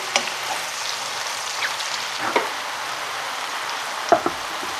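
Cep and bolete mushroom stems and pieces sear in a pan over high heat, giving a continuous close sizzle with scattered sharp pops and a few utensil clicks.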